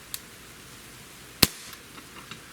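A Glock 19 BB pistol fires a 5.1 grain Daisy zinc BB, one sharp loud crack with a short ring, flanked by faint small clicks and taps in a quiet setting.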